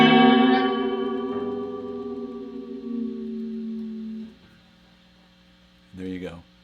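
A big guitar chord rings out through a delay echo effect, sustaining and fading over several seconds before a short repeated strum returns near the end, with a faint mains hum underneath.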